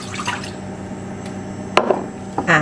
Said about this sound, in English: To the pan I'm going to add 200 ml of malt vinegar